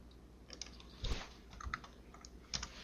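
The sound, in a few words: typing on a computer keyboard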